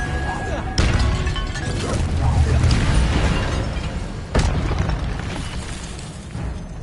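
Incendio fire spell cast in the video game Hogwarts Legacy, a loud whooshing burst of flame with a sharp blast near the start and another midway, roaring continuously through the clip.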